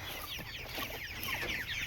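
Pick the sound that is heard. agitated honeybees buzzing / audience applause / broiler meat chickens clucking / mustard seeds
broiler meat chickens clucking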